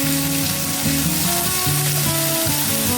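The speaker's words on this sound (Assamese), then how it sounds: "এতিয়া মই কাটি থোৱা আলুখিনিও তাত এনেকৈ ঢালি লৈছোঁ।" Cut potatoes are poured into hot oil in a pan and set up a steady, close sizzle of frying, with tonal clinks and scraping layered over the hiss throughout, and no voices.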